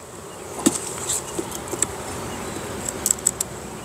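Honey bees buzz softly over an opened hive, a steady low hum dotted with brief louder buzzes as single bees fly close to the microphone.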